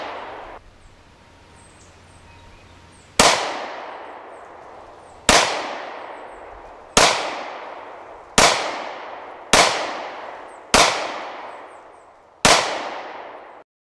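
Gunshots fired in pairs during a shooting drill from the low ready, seven loud, sharp reports spaced over several seconds, each followed by a ringing outdoor echo that decays before the next.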